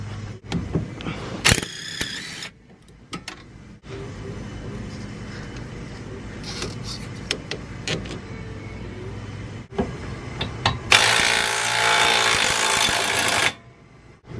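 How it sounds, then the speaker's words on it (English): An impact wrench hammers at the shock and suspension bolts of a car being lowered, with a loud, sustained rattling burst near the end after scattered clanks and workshop noise. "the impact wrench failed"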